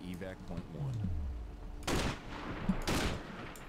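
Gunshots ring out in the video game Sniper: Ghost Warrior, two loud, sharp bursts with a ringing tail. They come after a quiet stretch with low electronic tones and faint background sound.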